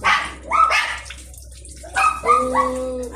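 Nearby dogs bark and yip in short bursts, two clusters separated by a brief pause, fairly loud and close.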